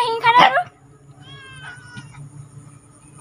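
A cat at home gives one loud, close meow at the start, then the sound drops to quieter background noise.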